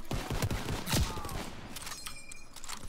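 Gunfire in Call of Duty WWII, the Hardpoint mode on the Aachen map: a flurry of rapid shots with one heavier blast in the middle, fading into scattered distant reports.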